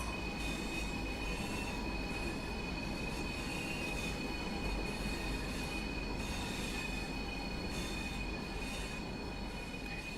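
Wheels of a miniature railway train squealing on the track, a sustained high-pitched screech over a steady rumble of rolling cars, continuous and fairly close.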